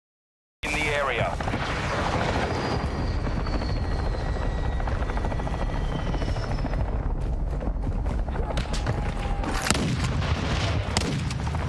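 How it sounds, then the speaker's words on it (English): A hostile VTOL aircraft roars overhead in the Call of Duty Warzone video game, a loud, steady rotor and engine drone with distant gunfire and booms mixed in. "Hostile VTOL overhead."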